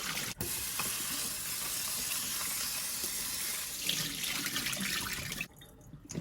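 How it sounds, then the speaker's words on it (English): Freshly harvested strawberries get rinsed under a running kitchen faucet, a steady close rush of water splashing into the sink that briefly drops away near the end. "So now we're going to drain them and give them a good rinse."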